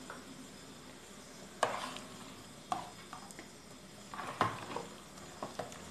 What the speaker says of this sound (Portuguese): E aqui agora a gente vai mexer.